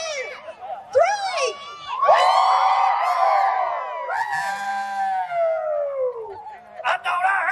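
A group of children yells and cheers a long, loud "woo," with whooping voices rising and falling together in several bursts close by.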